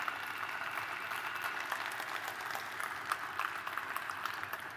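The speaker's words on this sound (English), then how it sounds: "Give it a big round of applause for all of our vendors here today." Faint, distant applause from a crowd at an outdoor soccer-field cybersecurity gathering, a soft steady patter of many hands lasting a few seconds.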